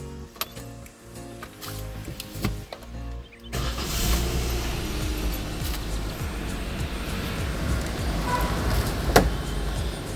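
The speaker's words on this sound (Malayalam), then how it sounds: "ഈ കേൾക്കുന്നതാണ് വണ്ടിയുടെ എൻജിൻ സൗണ്ടും കാര്യങ്ങളും." A Suzuki Swift hatchback with low mileage cranks over and its engine catches a few seconds in, settling into a steady, close idle with a low rumbling hum and a brief sharp click near the end.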